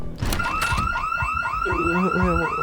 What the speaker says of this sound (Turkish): Ardından kaçarak kendi evime girdim ve alarm çaldı.